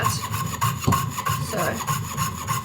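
A jeweler's saw blade cuts through silver in quick, steady back-and-forth strokes, each pass giving a close, dry rasping scrape that repeats evenly throughout.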